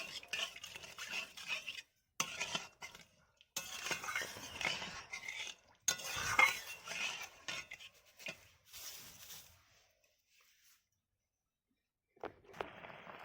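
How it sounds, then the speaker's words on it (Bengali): A spoon stirring Kashmiri chilli powder into a fish curry gravy in a pan gives soft, intermittent scraping and clinking bursts separated by short gaps. A long silence near the end is followed by a final brief scrape. "হাফ চামচ আমি কাশ্মীরি লঙ্কার গুঁড়ো দিয়ে দিচ্ছি। ভালো করে নাড়াচাড়া করে নিচ্ছি।"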